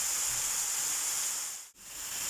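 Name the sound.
red pepper sizzling in hot oil with onions in a frying pan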